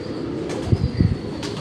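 A pigeon flapping its wings close by in a rooftop setting, a short burst of soft flutters over a steady background hum.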